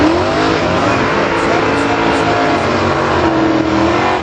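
A big-cubic-inch Buick Grand Sport drag race car accelerates hard down the strip at close range. The engine roars loud and continuous, with a rising, sustained tone for the whole stretch.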